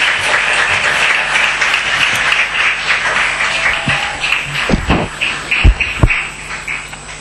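An audience applauds at an interview event, a dense patter of clapping through the room that thins toward the end, with a few louder close claps and thumps near the finish.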